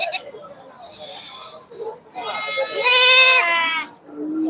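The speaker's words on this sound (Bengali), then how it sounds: "কয়েকটি ছাগল বিক্রির জন্য নিয়ে আসছে বিক্রি করবে" Goats bleat at a crowded village livestock market, several loud nasal cries near at hand, the longest a wavering drawn-out call, amid general crowd noise and murmuring voices.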